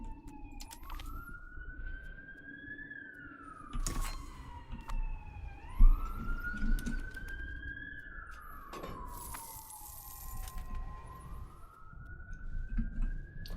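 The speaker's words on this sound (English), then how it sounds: "First ambulance of the stream" A wailing emergency siren sweeps up and down repeatedly as a vehicle passes, loud and prominent with some background noise, in a strategy-game livestream setting.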